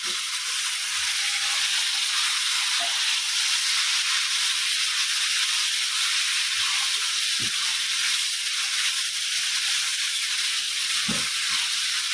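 Green chilli, onion and garam masala frying in hot oil, giving a steady broad sizzle that holds evenly throughout at close range, with a few faint knocks.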